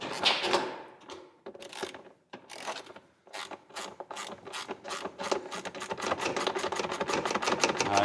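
Quarter-inch drive ratchet clicking on the clutch cover bolts of a Can-Am side-by-side, starting in short bursts and then settling into a fast, steady run of close, sharp ratcheting clicks with no talk.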